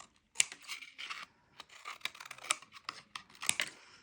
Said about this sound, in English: Small, we'll use the scissors.